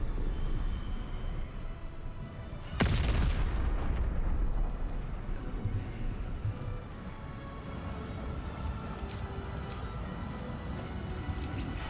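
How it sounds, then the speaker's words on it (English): A sharp, loud bombardment-spell blast in Baldur's Gate III erupts suddenly, then rumbles and crackles down into a lingering roar beneath steady game ambience. "bombardment"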